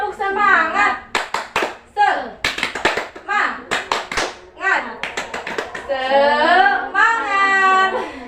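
Classroom children clap out a rhythmic patterned clap in bursts, joining a teacher's voice and chanting between the clap groups, near and lively.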